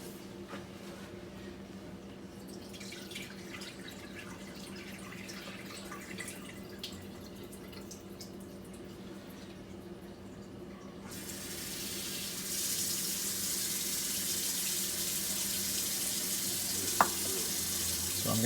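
Water runs and splashes quietly as a rose hip dye bath is poured off, then turns into a louder, steady rushing stream as a tap flows into a sink for rinsing.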